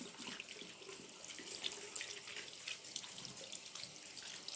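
Warm tap water runs steadily into a sink while someone rinses their face after a Korean-style egg yolk and starch face mask, a soft continuous splashing trickle.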